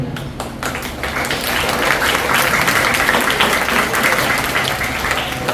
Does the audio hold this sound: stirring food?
no